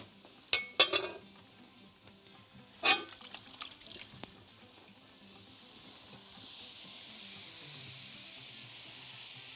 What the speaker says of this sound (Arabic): هنفضل نقلب في اللحمه زي ما احنا اتفقنا